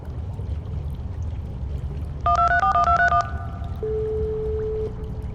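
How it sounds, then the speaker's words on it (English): A telephone being dialed to place a call: a quick run of about nine short dual-tone keypad beeps, followed by a single steady tone, heard over a low rumbling background. "I'll call the phone now."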